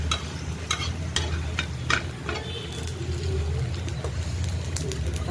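Grated coconut roasts in a pan for a spicy mutton kaliya masala, with a soft dry sizzle and repeated sharp clicks and scrapes as a spoon stirs it.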